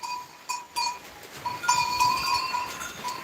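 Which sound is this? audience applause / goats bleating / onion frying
goats bleating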